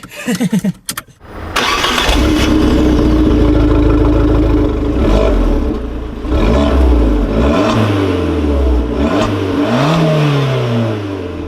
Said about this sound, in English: So here we are then, in my Abarth 595 Trofeo.